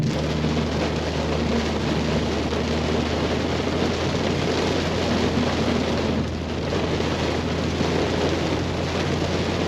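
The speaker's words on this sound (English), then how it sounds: "This rain is fucking terrible." Heavy rain drumming steadily on a 2024 BMW G87 M2 while driving, a dense continuous hiss over a low engine and road rumble, heard from inside the car with no talking.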